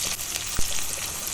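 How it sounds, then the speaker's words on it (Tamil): Mustard seeds, urad dal, chana dal and dried and green chilies sizzle in hot oil in a kadai, a steady crackling fry with one sharp pop partway through and no voices. "திரும்பவும் கடாயில் எண்ணெய் விட்டு காஞ்சதை கடுகு, உளுத்தம்பருப்பு,"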